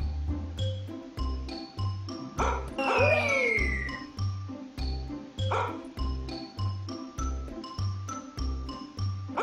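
Cartoonish dog barks and yips from the Crazy Belts mobile puzzle game pop over a bouncy, rhythmic game music loop with jingling chimes and a sliding whistle effect.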